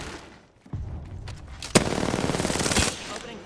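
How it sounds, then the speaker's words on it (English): Automatic weapons fire in a round of the Apex Legends video game, with a sharp opening shot followed by a dense, loud stream of rapid bursts. "Opening fire."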